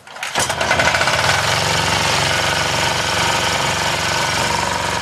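An engine running on oil synthesized from sea algae starts up and runs steadily, a loud, rough, continuous rattling drone with knocking texture that holds without a break.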